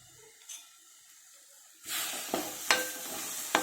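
Masala and chili powder frying in oil for fish pulusu: quiet at first, then a sudden loud sizzle bursts up and continues with a few sharp spatter cracks, close by.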